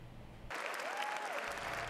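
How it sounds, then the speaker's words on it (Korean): Members of the US Congress applaud President Joe Biden's entrance to his State of the Union address, steady crowd clapping that starts abruptly and holds, fairly distant, under faint background sound. "상하원 의원들의 박수를 받으며 입장한 조 바이든 대통령"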